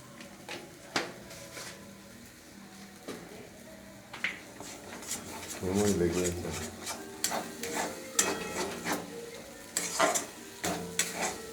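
Pea filling being stirred in a pan with a spoon, soft scraping and gentle sizzling in uneven strokes, close by and moderately quiet, growing busier toward the end.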